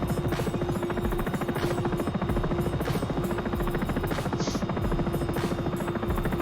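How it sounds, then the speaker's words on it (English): Sikorsky S76 helicopter engines in the flight simulator X-Plane 11: a steady, loud, rapid rotor chop over a constant engine hum and whine, unbroken throughout. "We'll restart the engines"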